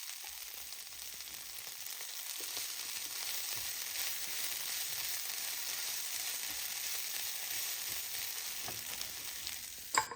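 Meat frying in a pan for scrambled eggs with meat, a steady, even sizzle and crackle running throughout at moderate level, with faint stirring scrapes and a small knock near the end.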